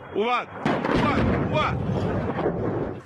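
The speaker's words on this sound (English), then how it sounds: "the plumes of smoke were massive and the explosions thunderous" Deep booming wartime explosions in a capital city rumble at a distance, a sharp crack followed by a sustained low roar, with voices faintly present underneath.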